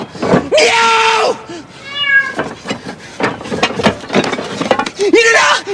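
A voice imitates a cat's meow, repeating drawn-out mewing calls loudly amid excited shouting in French from people nearby.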